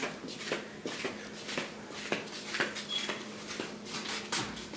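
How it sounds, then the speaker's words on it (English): Cheesecake going into an oven in a home kitchen, a string of light clinks, taps and soft knocks of a pan and rack with shuffling handling noise at close range, no talking. "let's put this in the oven here"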